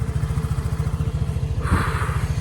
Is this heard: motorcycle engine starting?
yes